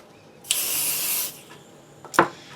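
Glitz glitter gel sprays from a can in one sharp hiss lasting under a second, close and clear, followed by a faint rustle and a brief louder clack or rub at the end.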